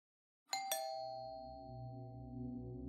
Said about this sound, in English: Jonathan walked up to the door of Alexia's parents' house and rang the doorbell